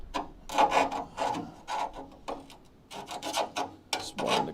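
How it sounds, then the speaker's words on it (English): Hand file rasping at metal burrs while fitting a new leaf spring perch on a crew cab Charger build: repeated close, scraping strokes in an uneven rhythm, each a short gritty burst with brief pauses between. "Kind of using the file to dig at the little burrs here."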